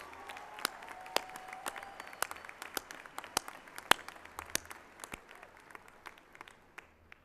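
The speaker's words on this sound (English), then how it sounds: "Let's give him one more round of applause." Audience applause follows a mariachi band's performance at a graduation ceremony, scattered sharp claps rising over a steady crowd bed for several seconds, then thinning toward the end.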